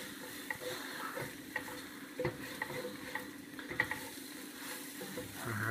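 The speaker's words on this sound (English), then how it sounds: "Stuff starts sticking, give it a good scrape." Utensil scraping stuck food across a pan on low heat while making a chicken enchilada casserole, with steady quiet sizzling and repeated short scrapes and stirs, no talking.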